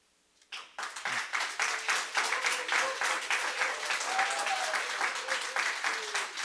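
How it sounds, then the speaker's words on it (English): Dense applause fills a school district board meeting, starting abruptly after a near-silent opening and holding steady as a close, sustained wash of clapping with no voices over it. "If we could keep the applause to a minimum"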